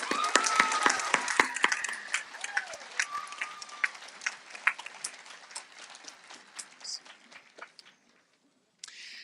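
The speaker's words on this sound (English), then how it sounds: "Let's give these folks a round of applause." Audience applause at a 2022 graduation ceremony honoring FFA state degree and award recipients, a dense patter of claps that fades out over several seconds, with a brief burst returning at the very end.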